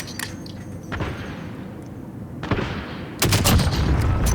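Suppressed gunfire in the Modern Warfare video game: scattered muffled shots and bursts under a steady battle din, growing louder and denser toward the end.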